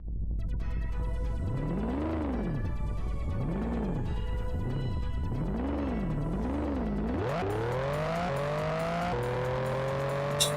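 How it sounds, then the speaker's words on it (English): A car engine in a racing video game revs up and down in repeated swooping surges, then climbs steadily through several gear shifts. It is loud and continuous, with no talking. "I love that engine noise."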